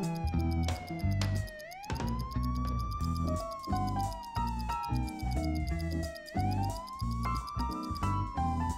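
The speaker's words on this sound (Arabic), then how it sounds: "وإذ بهم يسمعون صافرة سيارة الشرطة" A police car siren wails continuously in long rising and falling sweeps, loud and close, with no talk over it.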